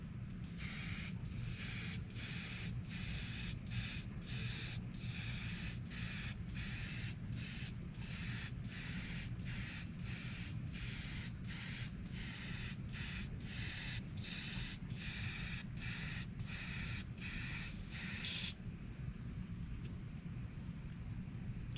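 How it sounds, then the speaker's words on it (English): Repeated short bursts of an aerosol spray can, evenly spaced hisses about one a second, then the spraying stops near the end leaving a low hum. "And always spraying down, never spraying up."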